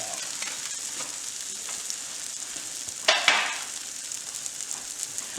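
Veggie burger patties fry in a pan with a steady, moderate sizzle, broken about midway by a brief louder crackling burst and followed by small intermittent pops, close by with no speech.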